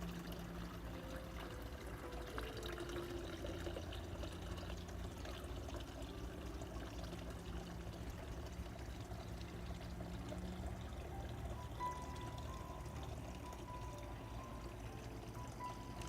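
Water from a backyard garden fountain trickles and splashes in a steady, continuous stream, close and even throughout with no talking.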